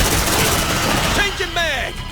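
Sentry gun blazing away in the sci-fi video game Aliens: Dark Descent, a dense, continuous burst of automatic fire with voices breaking through over the shooting.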